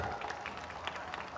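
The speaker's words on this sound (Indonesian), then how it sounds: "Tepuk tangan untuk Pak Jeprai." Brief, faint scattered clapping from an audience at the closing ceremony of the Gawai Dayak festival in Sintang, 2017, light and uneven.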